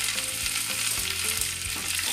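Curry leaves crackling in hot oil in a pan alongside mustard seeds and grated coconut, a loud continuous sizzle with spitting pops, close by with no voices.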